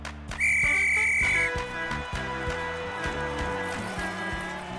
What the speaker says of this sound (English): Blow your whistle and let the game begin, Charley.